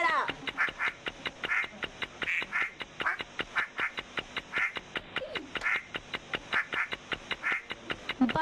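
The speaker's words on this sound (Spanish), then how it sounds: "¡Eso será un pato!" A duck quacks loudly and repeatedly in quick, rhythmic bursts, close up, with a steady pulsing pattern throughout.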